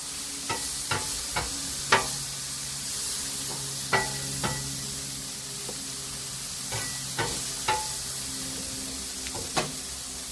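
Chicken and steak cooking on a homemade hibachi-style pan: a constant crisp sizzle punctuated by sharp, irregular clicks and scrapes of a spatula stirring the meat, close and steady, without talking.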